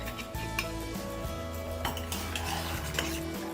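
Chicken being stirred and mixed in a clay hot pot, with a utensil scraping and clinking against the pot over a low sizzle, a busy close sound without pause.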